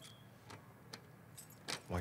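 Keys jangle in The Last of Us Part II as a few bright metallic clinks and rattles spaced through the moment, and a voice starts speaking at the end.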